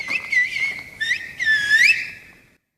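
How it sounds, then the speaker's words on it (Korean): Silbo Gomero, the whistled language of La Gomera, as loud, clear whistled phrases that glide up and down in several bursts, followed by a short pause. "라 고메라 전역에서 쓰이는 휘파람 언어 실보 고메로입니다."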